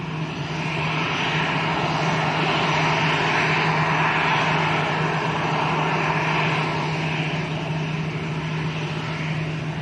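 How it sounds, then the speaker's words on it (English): An Airbus A320 in Cantabria Infinita livery departing Lanzarote Arrecife Airport for Barcelona gives a loud, steady jet engine roar that fills the scene without a break. "Cantabria Infinita colour scheme, this one, or livery. Going out to Barcelona, Airbus A320."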